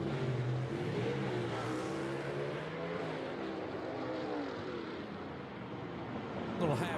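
A Sward and Pittman 1941 Willys gasser with a Fulton race engine makes a half-track drag pull at Knoxville Dragway, its engine giving a loud, sustained roar that gradually recedes.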